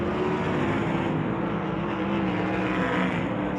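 Sprint cars race around the dirt oval at Cocopah Speedway during a USAC Western World event, their engines blending into a continuous distant roar across the track.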